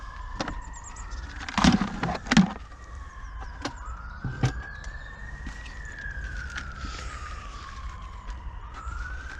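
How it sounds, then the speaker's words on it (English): An ambulance siren passes outside a garden in Salford, its wailing tone rising and falling at moderate distance, with a few sharp clunks of potting work nearby early on and steady background traffic. "Bloody ambulances."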